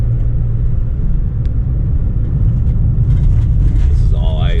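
Steady low rumble of a car driving on an icy road near scrapyards, heard from inside the vehicle as a continuous loud drone, with a voice speaking briefly near the end.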